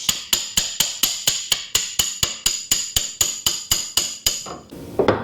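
Hammer blows tap a part off a PM-1030 lathe during a rattle repair, about eighteen sharp, evenly spaced metallic strikes at a steady rhythm, close and loud, then a brief scrape as the piece comes free.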